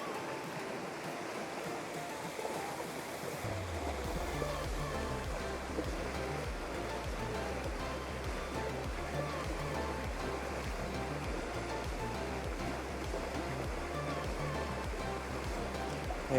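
Water flows steadily in a trout stream on the opening day of trout season, a continuous close rushing wash with a low churning undertone that runs unbroken throughout.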